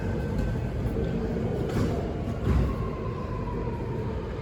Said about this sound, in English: my train's arriving, because you could hear it.